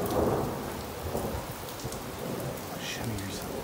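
A heavy thunderstorm near Clermont-Ferrand in Auvergne, with steady dense rain and low rumbling thunder throughout, loud and close, with no clear voices.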